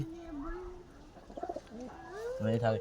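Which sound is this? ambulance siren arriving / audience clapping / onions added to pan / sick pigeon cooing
sick pigeon cooing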